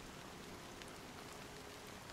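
Steady rain falling in Honkai: Star Rail, a faint, even hiss of drops with a few soft individual patters, no talk over it.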